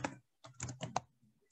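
Quiet keystrokes on a computer keyboard while a git commit command is typed: a few short bursts of clicks separated by brief pauses, close and faint.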